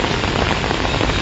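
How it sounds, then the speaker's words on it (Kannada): Heavy rain pours in Belagavi as a dense, steady roar of water with no pauses or other sounds. "ಕಳೆದ 15-20 ನಿಮಿಷಗಳಿಂದ ಬೆಳಗಾವಿಯಲ್ಲಿ ಮಳೆ ಈ ರೀತಿಯಾಗಿ"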